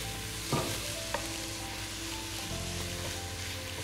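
Spinach fries on garlic in a pan, a steady soft sizzle with a couple of brief stirring clatters, no voices.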